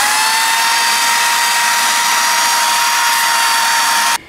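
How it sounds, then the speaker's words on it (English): A power tool drives a wire brush against the inside of a Jeep Wrangler wheel rim to clear rust, a loud steady whining buzz held for about four seconds before cutting off abruptly. "I'm also going to use the wire brush on the inside of the rim just to make sure that it's flat and there's no, rust."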